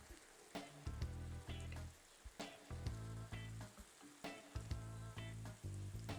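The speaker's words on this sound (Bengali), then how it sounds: "পেঁয়াজটা খুব ভালো করে কষিয়ে নিব, যাতে কাঁচা গন্ধটা চলে যায়।" Onions and six green chilies with a bay leaf sizzle and fry steadily in hot oil for Dhaka-style morog polao, with stirring clatter breaking through the close, continuous crackle.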